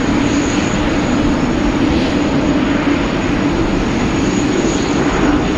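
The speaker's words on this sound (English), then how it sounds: "As we move over to our Asiana A330 Pratt & Whitney powered, heading back to Seoul." Asiana Airbus A330 with Pratt & Whitney engines taking off from Sydney's runway 16 right, a loud, steady jet engine roar holding constant throughout with broadband rumble and no voices.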